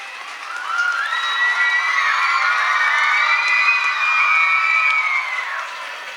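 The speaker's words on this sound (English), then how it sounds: "Ladies and gentlemen, give them a huge round of applause." A school event audience cheering loudly, a sustained crowd roar full of excited children's shouts and whoops rising and holding for several seconds before easing off.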